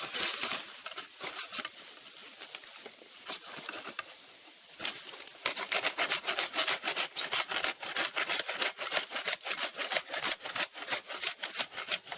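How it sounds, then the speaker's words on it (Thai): Rapid back-and-forth sawing through bamboo, steady rasping strokes that speed up and grow louder after a short pause, close by. "แล้วตัวหนึ่งขาดไปแล้ว เลื่อยได้อย่างไวเลยเลื่อยตัวนี้"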